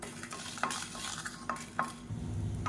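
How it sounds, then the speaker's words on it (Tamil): Red chilies, cloves and cinnamon dry roasting in a pan, stirred with a utensil that scrapes and taps the metal in a steady, repeated rhythm over a faint sizzle. No one speaks. "இது கூடவே 2 கிராம்பு, சின்ன துண்டாக 2 பட்டை, இது எல்லாத்தையும் நல்லா வறுத்துக்கலாம்."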